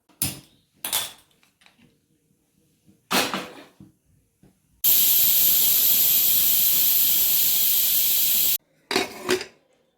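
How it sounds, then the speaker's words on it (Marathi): A pressure cooker cooking vegetables with water and salt for pav bhaji gives a few short hissing bursts, then a loud, steady jet of steam for about four seconds. After a brief pause, more sputtering puffs follow. "आता कुकरला झाकण लावून घेते आणि 4 शिट्ट्या करून घेते."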